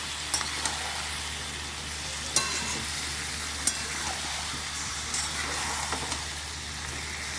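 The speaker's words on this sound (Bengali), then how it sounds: "এরপর আমি এগুলো সব ঢেলে দিচ্ছি। সামান্য একটুখানি নাড়বো" Marinated chicken sizzles and fries steadily in a pan, with a few sharp scrapes and clinks as it is stirred, close and continuous with no talking.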